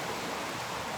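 A river flowing past in the morning, a steady broadband rush of moving water heard alone without voices, constant and even throughout.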